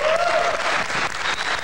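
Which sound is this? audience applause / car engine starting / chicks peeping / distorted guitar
audience applause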